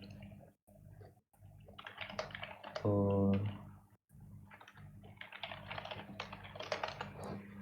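A computer keyboard tapped in steady bursts of clicky keypresses, loud and close, with one sustained tonal hum cutting in briefly partway through.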